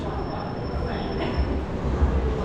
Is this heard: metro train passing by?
yes